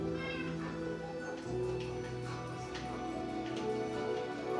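A cat in the video game Minecraft, guarding armor in a desert world, meows several times at moderate volume over a steady low in-game background hum.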